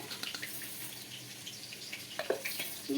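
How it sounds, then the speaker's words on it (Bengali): Water trickles into cornflour batter in a bowl, a steady close splashing pour with small drips and light stirring clinks toward the end. "এবার এখানে অল্প অল্প জল দিয়ে একটা বেটার মতো করে নেবো"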